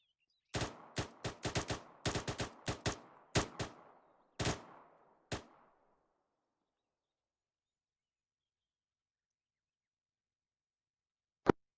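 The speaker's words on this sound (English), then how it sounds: "In the prone position, at a range of 100 meters, you will fire 5 rounds rapid." Rifle shots ring out at a 100-metre range from a shooter firing prone, a rapid string of about eleven sharp close cracks with short echoing tails, then quiet and one last shot.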